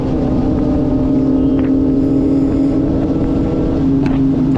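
Big-bike motorcycles such as Ducati, BMW, Triumph and Kawasaki on an expressway near Subic, heard as a loud, steady engine drone mixed with heavy wind rush on the rider's microphone, with no speech.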